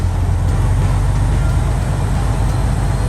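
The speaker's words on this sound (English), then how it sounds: "the injectors actually kind of shaking and making the truck not work" A Detroit DD15 diesel truck engine with faulty, shaking injectors idles loudly and steadily, its low rumble carrying a rough, uneven knock throughout.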